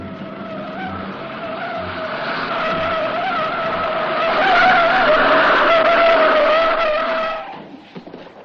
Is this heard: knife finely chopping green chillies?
no